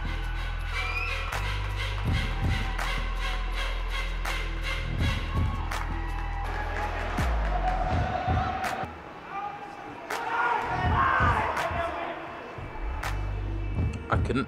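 A travelling ice hockey crowd roars and cheers at an Invicta Mustangs game, with repeated thumps and bangs, swelling shouts toward the end and someone talking over the noise.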